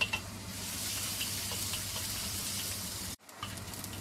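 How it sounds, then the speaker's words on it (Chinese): Minced ginger, about a tablespoon, sizzles and fries steadily in a wok for vegetarian cooking, a continuous hiss that cuts out abruptly near the end before resuming faintly. "我哋炒香啲姜米先"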